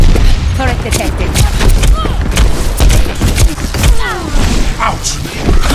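Heavy turret gunfire from Overwatch keeps up a loud, near-continuous barrage of shots and impacts for the whole stretch, with voices mixed into the chaos.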